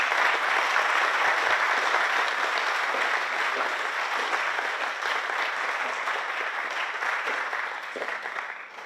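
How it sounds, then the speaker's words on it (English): An audience at a military retirement ceremony applauds the 25th Infantry Band, a dense, sustained wash of clapping from many hands that holds steady and tapers slightly toward the end. "Please join me in a round of applause and thank them for their service"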